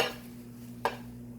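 Carote cookware pieces, a casserole pot, a deep pan and their lids, clink together in one sharp ringing knock near the microphone, set against a steady low hum with no talking.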